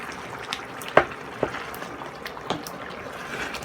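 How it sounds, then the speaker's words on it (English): Lasagna meat sauce cooking over medium-high heat in a pan and being stirred, heard as a low sizzle with a few soft spoon knocks and scrapes, close by. "I have this going on medium high and I'm going to give this a stir"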